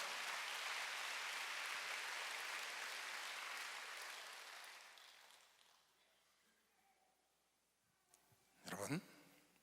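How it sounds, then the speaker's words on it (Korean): A church congregation at a Wednesday worship service applauds loudly, a dense wash of clapping that slowly fades over about five seconds, leaving quiet room tone before a short burst of voice near the end. "박수로 하세요."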